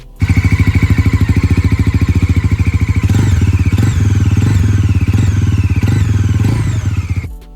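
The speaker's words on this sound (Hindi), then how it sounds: "अगर मैंने इसका एग्जॉस्ट चढ़ाऊंगा ना, हल्की हल्की ना बहुत विसल साउंड आती है" A Bajaj Pulsar NS400Z motorcycle engine idles with a rapid, steady exhaust pulse, then revs up slightly, a faint whistling tone riding on top; loud and close.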